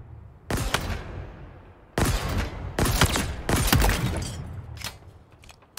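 Mangler weapon shots in Halo Infinite, a handful of loud, punchy gunshots fired in an irregular rhythm, each ringing out into a reverberant tail, with a quieter stretch between the first shot and the later cluster.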